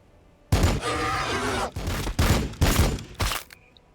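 Bursts of gunfire in the Warhammer 40,000 video game, Blood Angels firing on Tyranids: several loud, close volleys in quick succession, each a short heavy rattle separated by brief gaps.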